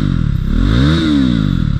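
A KTM Duke 390 BS4 motorcycle with an aftermarket exhaust revs up loudly and close, its engine note rising to a peak and then falling back to idle.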